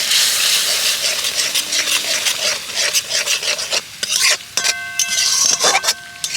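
Spice paste with cumin and coriander powder being stir-fried in a pan, loud close rasping scrapes of the spatula in quick irregular strokes over a light sizzle, no one talking.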